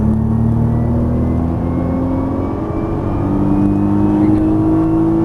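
A 2013 Nissan GT-R accelerating under throttle on a track, its engine a steady loud drone with a rising tone that climbs slowly across the whole stretch, heard from inside the car.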